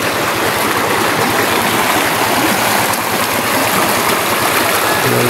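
A rocky creek in a Mindanao picnic area flows steadily, a loud, dense rushing and gurgling of water that stays constant throughout, heard up close with no voices.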